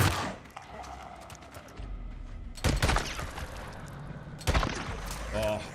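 Gunfire in the video game Days Gone: a couple of sharp, loud shots stand out amid busy game noise, with a few scattered smaller bursts in between.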